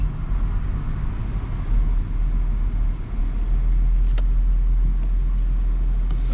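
A 2007 Mercedes C350 drives along on its first outing after a leaking brake line repair, giving a steady, heavy low engine and road rumble heard from inside with a couple of faint clicks.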